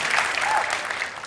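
A conference audience bursts into loud, sustained applause and cheering for Brazil, a dense wash of clapping hands filling the room without pause.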